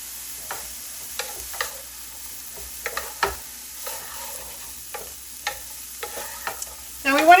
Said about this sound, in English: I'm going to get our veggies going first because they're going to need the most amount of time to cook.